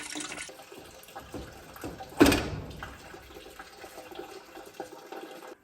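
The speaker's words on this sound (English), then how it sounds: "I'm gonna drain the coolant first." Coolant draining from a Dodge D100 truck into a bucket, a steady watery trickle with one louder splashing gush partway through, close by and without talk.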